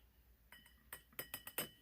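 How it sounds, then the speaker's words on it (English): A PVC board game piece is dipped into a glass of water, with a quick run of faint, light glassy clinks as the piece taps against the glass. "Which might include dipping it in a glass of water."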